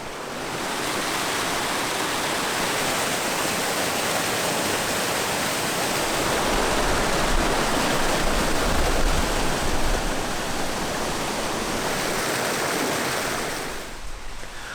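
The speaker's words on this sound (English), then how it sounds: "This unique waterfall tumbles down multiple shelves of rock to spill into a deep pool below" Toquerville Falls, a desert creek waterfall, tumbles over multiple rock shelves into a deep pool: a steady, loud, broadband roar of falling water that continues unbroken, swelling slightly midway, with no voices.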